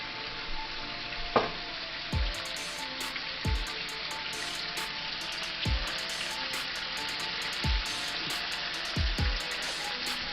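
Butter sizzles steadily in a hot skillet while it is swirled around the pan, a constant frying hiss with several soft clunks and scrapes from the pan being tilted and set back down.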